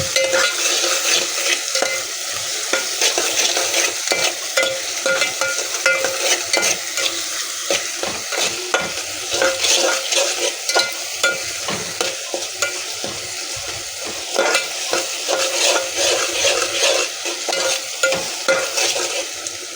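Onions and tomatoes with salt frying in oil while a spoon stirs them, loud close sizzling broken by repeated scraping and clinking strokes against the pan, steady for the whole stretch with no talking.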